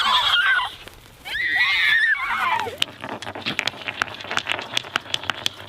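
Several children imitate horses neighing together on a grass field, their high whinnying voices rising in a loud, overlapping burst for the first couple of seconds, then sharp scattered clicks and taps follow.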